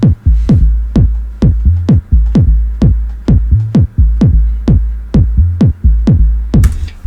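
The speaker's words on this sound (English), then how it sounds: "I'm then going to move on to the kick and the bass." Kick drum and bass of a stab house track produced in Ableton, loud and upfront, thumping in a steady four-on-the-floor pulse with deep bass notes shifting pitch between hits, with no other sounds.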